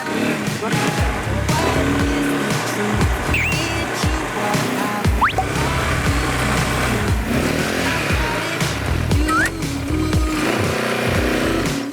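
A small ATV engine revs and putters close by as it shifts gear and pulls away in a jungle, with voices talking over the uneven motor noise.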